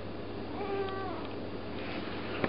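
A cat meows close by in a single drawn-out, rising-and-falling call, set against a quiet indoor hum with a small click near the end.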